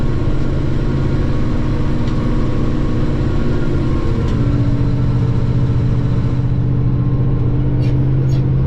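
A Rome 475 four-wheel drive tractor plows a field with a loud, steady low engine rumble. It drones on continuously at close range, with wind noise and no clear speech.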